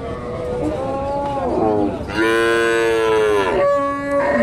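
A Sahiwal cow moos at a livestock market in Naogaon, two long drawn-out lowing calls close to the microphone, the second louder and fuller, over a background murmur of market noise.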